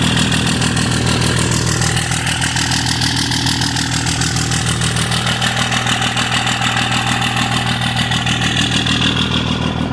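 Cold start of a 2006 Dodge Ram Megacab Cummins diesel with a manual transmission and a big single Borg Warner S464 turbo, a loud, steady, rough idle clatter heard close and alone.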